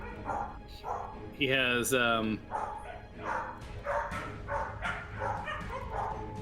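Several dogs bark and yip repeatedly at close range, loud and overlapping, while a person talks over the noise.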